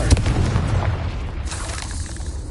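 A Confringo blast spell in Hogwarts Legacy makes a loud, booming burst: one heavy low explosion whose rumble and crackle fade over about two seconds.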